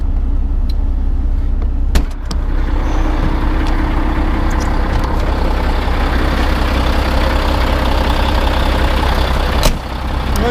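A Volvo FM12 truck engine idles with a low, steady diesel rumble, heard close and loud and unbroken, with a couple of short clicks and knocks on top.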